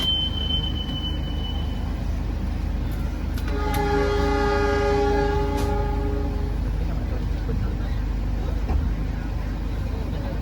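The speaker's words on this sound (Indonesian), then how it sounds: "ternyata kereta api Lodaya yang kita naiki juga diberangkatkan nih teman-teman" A departing Lodaya passenger train sounds its horn, sustained harmonic tones over a constant low rumble of rolling rail noise, with faint talk in the background, heard on the Bandung route.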